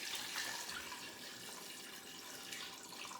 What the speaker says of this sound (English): I like to at least have 1 inch of water above my whole chicken. So I'm going to add another quart.